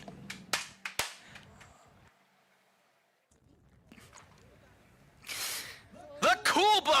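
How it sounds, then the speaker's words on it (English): Roman candle fireworks on a jet car at a drag strip burst in sharp, crackling pops: several loud cracks at first, a quiet stretch, then a rushing hiss and a rapid cluster of pops, with voices around. "if you thought those Roman candles were neat"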